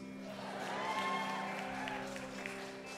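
A concert audience breaks into applause and light cheering, a soft, even wash of clapping that swells slightly and holds for a few seconds, distant-sounding.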